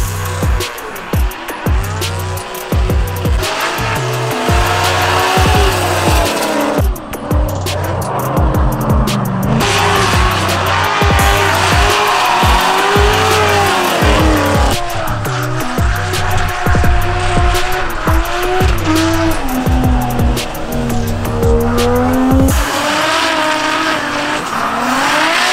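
A V8-swapped Nissan S14 drift car roars loud and near, its engine revving up and down in long surges as the tires squeal continuously through the slides, with brief lifts between pulls.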